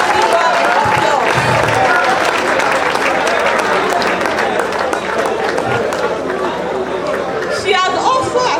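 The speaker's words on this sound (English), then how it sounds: "Please let's give her a resounding round of applause." Sustained audience applause for a speaker at an engineering graduate induction ceremony, a dense wash of clapping mixed with crowd chatter and talking throughout.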